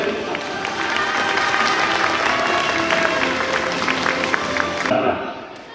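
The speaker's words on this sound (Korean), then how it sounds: "뜨거운 박수까지" Audience applause after a magic show at a middle school in Seoul, a sustained round of clapping under faint voices, fading out near the end.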